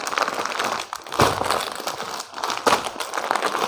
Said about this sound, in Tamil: நான் வந்து ஒரு சாரி பிரித்து காட்டுறேன்